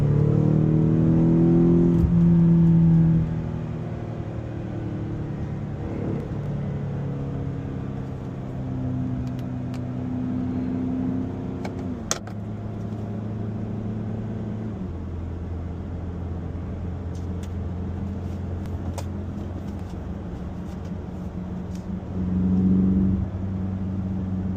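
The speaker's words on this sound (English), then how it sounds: "Okay, here's the interior video. Valves open. Wide open now." BMW X6M with a Valvetronic Designs valved sport exhaust, valves open, heard from inside the cabin: a deep rev rises loudly at first, then a lower steady drone and rumble with gear changes, and another brief swell near the end.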